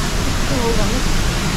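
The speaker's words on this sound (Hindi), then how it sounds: "आप देख सकते हैं यहाँ से पानी टिप टिप करके गिर रहा है" Water pours and drips at the Düden waterfalls in Antalya, a loud, steady rushing wash of falling water heard up close, with a voice likely present beneath it.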